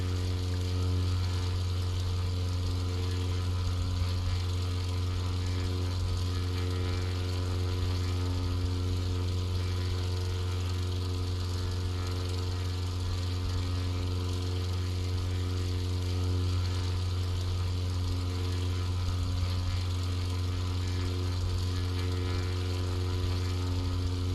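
An aircraft engine in Microsoft Flight Simulator drones at a steady, low throttled-down hum, unbroken and constant throughout.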